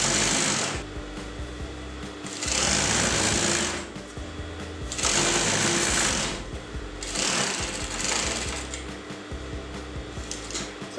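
Sewing machine stitching tote bag fabric in four loud bursts of rapid, buzzing stitching, each lasting one to two seconds with brief quieter pauses between them, heard close up.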